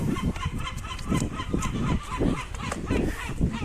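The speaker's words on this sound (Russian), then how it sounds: "Это чайки так кричат." Gulls calling repeatedly near an outdoor path leading to an amphitheatre in Bulgaria, a dense, honking chorus of overlapping squawks that continues steadily throughout.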